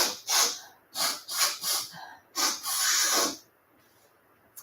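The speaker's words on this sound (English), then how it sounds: "Clear your throat and then clear your nose." Someone in a yoga class clears their nose with a series of sharp, forceful nasal snorts and exhales, five or six close bursts followed by a longer blow, then quiet.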